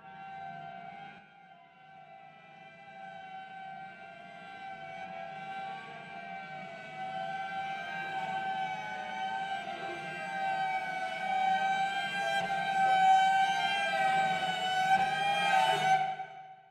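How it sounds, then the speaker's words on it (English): Cellos in a horror sound library play clustered harmonics, building from a thin sustained drone into a rising, increasingly strained and scratchy tone as bow pressure grows, then cutting off sharply at the end. "these cellos are playing clustered harmonics, and they're gradually increasing the pressure on the bow, and that's creating this kind of awful scratching sound"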